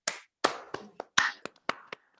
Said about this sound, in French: Je vous demande d'ouvrir vos micros pour un bel applaudissement